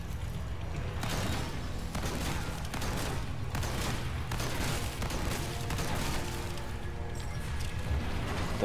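Shotgun blasts in the Resident Evil 4 Remake fight against Salazar, a steady stream of loud, dense gunfire and impacts filling the whole stretch with game noise layered beneath.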